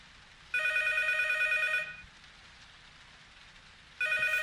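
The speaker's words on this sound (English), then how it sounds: "Phone's ringing, but it's off the hook already." An old-style telephone bell rings inside the horror game P.T., one loud, close electronic ring lasting over a second, then a pause, then the next ring begins, with rain-like hiss in the background.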